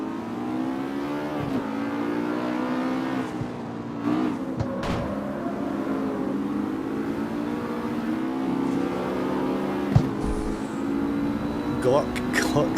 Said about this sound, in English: We all like a really throaty Mustang, don't we?